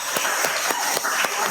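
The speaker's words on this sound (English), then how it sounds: "Another round of applause for a great speech." Church congregation applauding after a speech at a Sunday celebration of life service, a steady patter of many hands with a few louder claps standing out.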